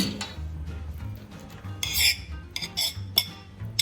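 Butter being worked soft with a spoon in a bowl for corn and chocolate-chip biscuits: a scraping spoon against the bowl, with soft scraping and clinking transients that cluster into a brighter burst of clinks midway.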